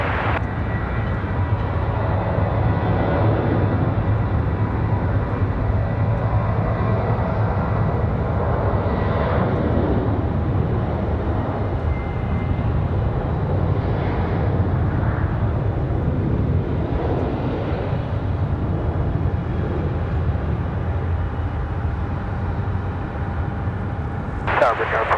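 A fixed-wing airliner takes off from runway 5 right at Raleigh-Durham International, its engines giving a steady, loud broadband roar that holds throughout, with radio chatter under it.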